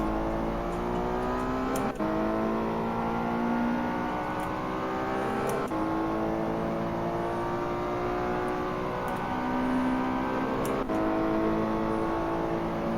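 Race cars in the Ferrari Challenge video game, a steady layered engine drone with rising gear-shift pitch sweeps repeating every few seconds, loud and continuous.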